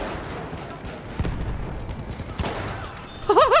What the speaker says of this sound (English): I might run this shotgun more often